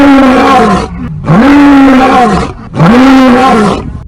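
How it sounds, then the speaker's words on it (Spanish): A lion's roar used as a storytelling sound effect: three loud, close, drawn-out roaring bursts separated by brief gaps, each rising and then falling away, with no voices. "un aterrador rugido"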